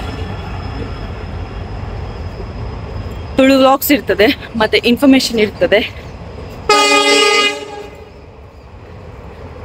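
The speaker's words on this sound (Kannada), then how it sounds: "ರೈಲು ಹೋಗ್ತಾ ಉಂಟು" A train passes with a steady low rumble throughout and a loud horn blast near the end, while someone talks over the passing train.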